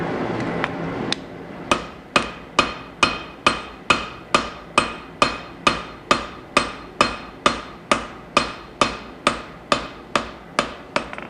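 A hammer strikes a wootz steel integral chef's knife during forging, about twenty-two sharp metallic blows in a steady, even rhythm, close and loud with nothing else heard.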